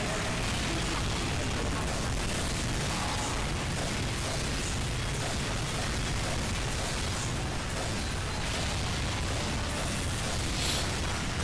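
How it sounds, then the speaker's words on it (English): Critical rocket explosions in Team Fortress 2's Mann vs. Machine mode, a dense, continuous barrage of bursts and booms across the whole stretch, loud and chaotic with no pauses. "That's a load of crit rockets."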